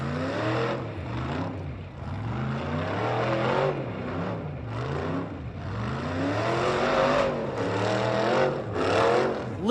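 Rock bouncer off-road racer at King of the Hammers, its engine roaring loud and near, repeatedly revving up and easing off in rising and falling sweeps, with no talk over it.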